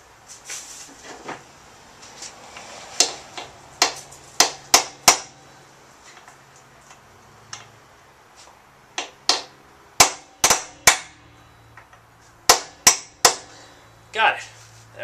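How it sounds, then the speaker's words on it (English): A chisel is hammered to knock loose a part during an engine removal, giving sharp, ringing metallic blows in irregular clusters of several quick strikes, with pauses and low background noise between. "Time to break out a chisel."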